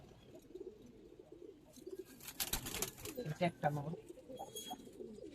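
Giribaz pigeons coo softly inside a loft, with low throaty calls and some rustling rising in the middle, as someone speaks over them.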